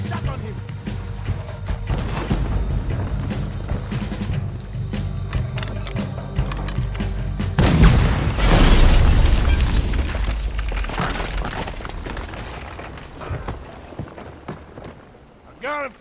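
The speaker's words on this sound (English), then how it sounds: "There's another cannon up ahead on our left." Heavy cannon fire from a ship battle in Red Dead Redemption 2: a deep, loud boom with a rumbling tail midway through, over steady battle noise and crackling debris, with voices talking in the mix.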